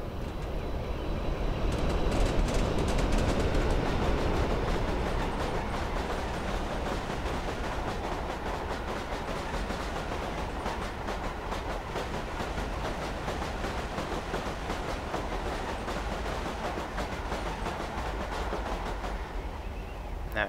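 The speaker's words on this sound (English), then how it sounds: "It's a double header Class 47 as well, since the train is very long." A long double-headed Class 47 diesel train in Train Simulator 2018 rolls past at Shap Summit, a loud continuous engine roar with rapid rhythmic wheel clatter throughout, and no talking.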